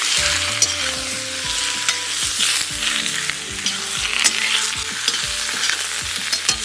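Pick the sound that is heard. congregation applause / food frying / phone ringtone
food frying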